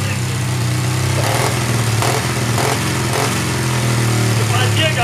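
A two-stroke chopper motorcycle engine runs loudly and close, a steady, throaty drone that holds throughout with little change, and faint voices mixed in.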